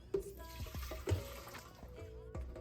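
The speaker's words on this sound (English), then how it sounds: "we have just coconut milk that we need right here. Gonna go ahead and pour it in here." Coconut milk poured into a blender: a soft liquid trickle and glugging pour with a few clunks of container against the jar, close and fairly quiet.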